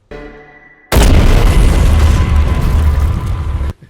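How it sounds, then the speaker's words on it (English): A grenade explosion kills a Hunter in a Halo 4: Forward Unto Dawn film scene, a sudden loud, sustained blast that rumbles for nearly three seconds after a brief quieter lead-in, then cuts off abruptly. "he just shoves that grenade into its gut, drops down, and the hunter just goes."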